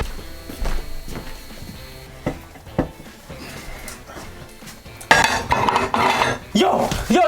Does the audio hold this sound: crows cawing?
no